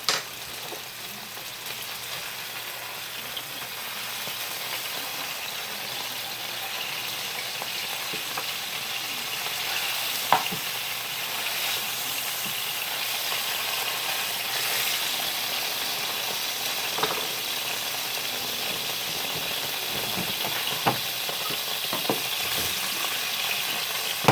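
Mushroom mixture sizzles steadily in a hot pan for Beef Wellington, a constant bright frying hiss with a few small pops and stirring scrapes, close and alone with no voices.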